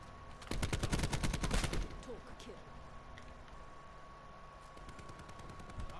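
Rapid automatic gunfire from a very fast-firing weapon in Call of Duty Black Ops 4, a loud dense burst of shots lasting about a second and a half, then fainter scattered game sounds and distant shots.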